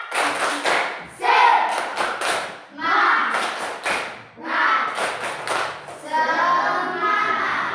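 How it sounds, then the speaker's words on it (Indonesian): A school class claps together in a quick rhythmic "tepuk semangat" cheer pattern, bursts of clapping broken by short pauses, with children's voices mixed in. "Sebelumnya mari kita sama-sama tepuk semangat."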